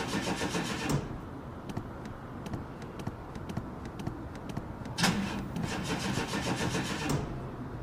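A Chevy Astro van engine cranks in two close bursts of rapid, rhythmic starter churning separated by a quieter pause with faint ticking, without catching.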